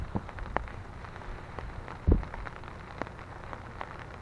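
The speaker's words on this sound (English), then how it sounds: "it looks like the rain's really starting to pick up here" Rain falling on a tarp and running into a bucket, with scattered sharp drips and taps over a soft steady patter, including one louder close splash partway through.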